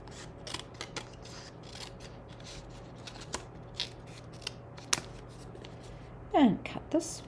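Scissors snip through a piece of a craft bundle, a few crisp cuts scattered among quiet rustling and handling noises at close range, with a louder burst of cutting and rubbing near the end.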